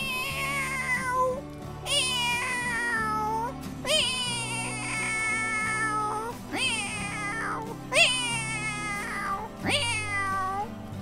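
A man mimics kittens meowing back and forth to each other, a string of high, wavering mews and plaintive cries in short bursts, clear and close with pauses between calls.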